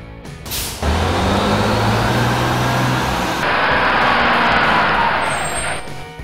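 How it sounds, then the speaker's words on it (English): Heavy diesel engine of a monster city bus running loud and close, a steady low drone with rising revs, ending in a brief hiss of air, no voices. "Monster City Bus."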